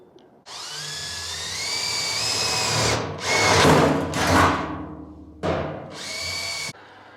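A cordless, battery-powered drill whirs in several bursts outdoors while planting a large garden trough, its motor pitch climbing as it spins up, with short pauses between runs before stopping as the batteries run out.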